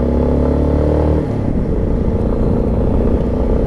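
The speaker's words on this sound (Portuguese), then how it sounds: "Vamos ligar a moto e vamos sair novamente." Yamaha XTZ Lander 250 motorcycle engine idling with a steady low thump, then revving louder and rougher as it pulls away, close and loud throughout.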